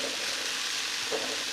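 Chopped vegetables frying in a pan for a vegan spaghetti dish, a steady, dense sizzle that holds at an even level throughout with no voices.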